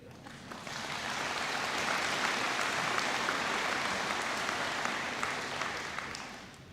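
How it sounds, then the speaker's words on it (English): A crowd at a high school graduation ceremony breaks into loud, sustained applause that swells within the first second and holds as a thick, even wash of clapping before easing slightly at the end. "So how about y'all give yourselves a big hand?"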